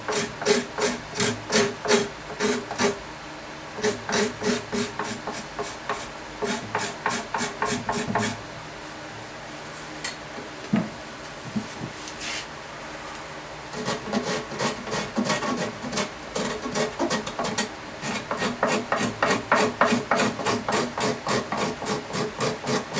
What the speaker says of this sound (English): I would rather scrape than sand, so I'm going to scrape as much as I can